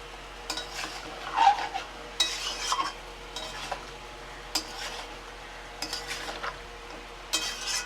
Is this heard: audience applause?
no